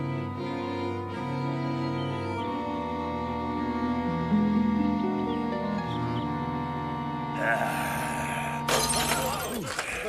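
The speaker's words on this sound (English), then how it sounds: "Buy yourself some stronger glass, Ripple." Glass shatters with a bright, sudden crash near the end of a long stretch of continuous music, then a second breaking burst follows moments later, both loud and close.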